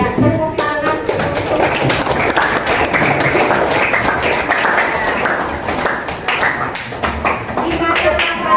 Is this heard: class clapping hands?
yes